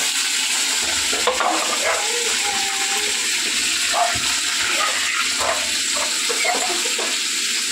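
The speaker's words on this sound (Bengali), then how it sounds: "4টে মাছ একবারেই ভেজে নেব।" Four fish fry together in hot oil, giving a steady, close, loud sizzle and crackle that runs unbroken throughout, with occasional faint clicks on top.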